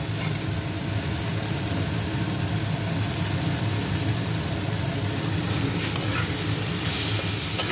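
Vegetables and spices sauté in a hot pan, a steady, dense sizzle with continuous stirring and scraping underneath, constant in level throughout and with no talk.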